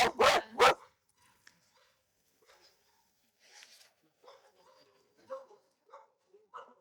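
Several dogs bark loudly in a quick burst at an animal shelter yard, then faint scattered yips and whimpers follow at a distance with quiet background talk.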